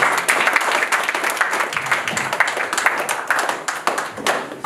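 Congregation in a church thanksgiving service applauding, dense sustained clapping from many hands, loud and close, continuing throughout with faint voices mixed in.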